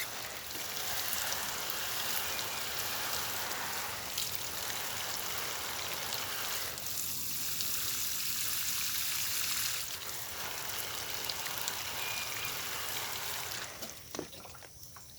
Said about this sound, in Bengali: একেবারে স্নান করিয়ে জলটা দিতে যতক্ষণ না নিচে দিয়ে জল বেরিয়ে যাচ্ছে